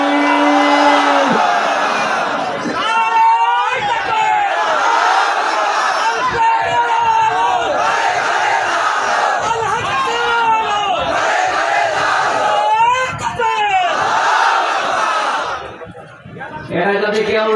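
A large crowd at a religious gathering chants in loud unison, a roaring answer to a takbir call, with swelling shouts and overlapping voices kept close and dense throughout.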